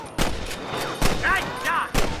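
Gunshots fire in the Red Dead Redemption video game, sharp loud blasts at a steady pace of about one per second against a busy game soundscape.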